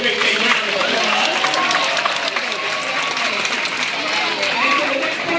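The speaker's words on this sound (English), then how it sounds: "let's go ahead and give Lily and Delilah a great big round of applause" Crowd applause fills the stands at a Gulfarium dolphin show, a steady dense wash of clapping and cheering from a large audience that holds at an even loudness throughout.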